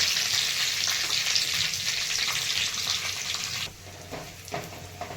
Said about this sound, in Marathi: कढईमध्ये तेल तेलामध्ये लसूण टाकलेलं आहे जिरे आणि मोहरी टाकलेलं आहे